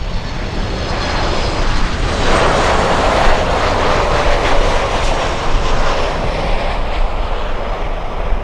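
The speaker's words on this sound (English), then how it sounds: "this is the United from Denver, a 737 MAX 9" A United Boeing 737 MAX 9 in from Denver at Miami International Airport in stormy weather, a loud, continuous jet engine roar that swells slightly midway and stays strong to the end.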